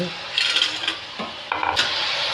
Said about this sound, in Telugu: పొట్లకాయ నిదానంగా సన్నసెగ పెట్టుకొని ఇట్లా వేయించుకోవాలన్నమాట